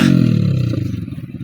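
A motorcycle hauling sacks of harvested rice gives a loud, close engine rumble with a pulsing throb that slowly eases off over a second and a half.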